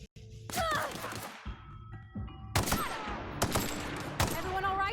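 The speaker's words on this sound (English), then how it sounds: "Ooh, I love the assault rifle." An assault rifle in the sci-fi game The Outer Worlds fires in short, sharp bursts, loud cracking volleys separated by brief pauses, with metallic ringing tails between shots.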